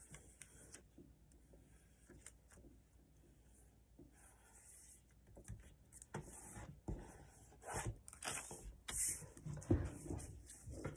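Paper being folded into an origami fighter jet: soft, close rustles and creasing scrapes, faint and intermittent, growing busier and a little louder toward the end.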